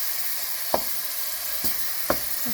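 Ground turkey sautéing in oil over a high flame gives a steady, close sizzle throughout, broken by three sharp clicks of a utensil against the pan, with no talking.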